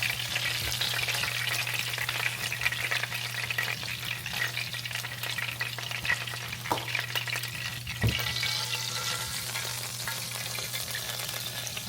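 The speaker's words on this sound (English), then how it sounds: "I don't need that much oil to saute those onions in." Onions sauteing in oil in a pan give a steady, loud sizzle with occasional clicks of stirring, close up and without talk.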